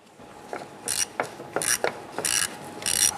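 Ratchet wrench loosening a bolt on a 1997-2006 Jeep Wrangler during harmonic balancer replacement, heard as several short bursts of rapid clicking separated by brief pauses, close and clear with no talking.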